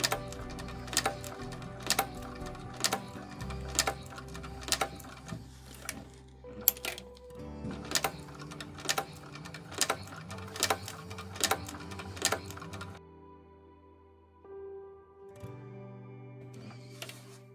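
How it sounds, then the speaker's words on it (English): A sewing machine stitches a handbag gusset in rapid regular bursts of mechanical clatter, stopping and starting between runs, with a quieter pause and a final short run near the end. "Lift your foot up, bring it back down, and continue sewing."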